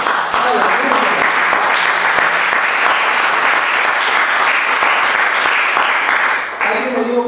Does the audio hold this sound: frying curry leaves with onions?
no